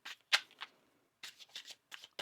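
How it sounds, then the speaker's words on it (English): Tarot cards riffle and slap in short bursts, quiet and close, with a pause in the middle before a few more quick shuffles. "One more shuffle now."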